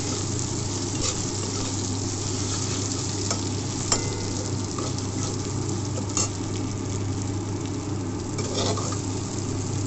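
Small potato pieces fry in a pan with a continuous close sizzle and soft crackle over a low steady hum, plus occasional light stirring taps.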